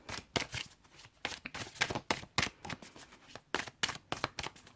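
Playing cards are shuffled repeatedly for a card reading, giving a series of crisp riffling bursts in an uneven rhythm, close and fairly quiet, with no voices.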